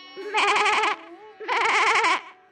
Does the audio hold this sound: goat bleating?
yes